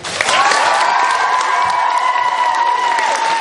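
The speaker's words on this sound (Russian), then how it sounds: "Ну-ка покажите мне, как вы аплодируете." Children at a summer-camp concert applaud and cheer together, a dense, steady wash of clapping with shouts and high voices running throughout.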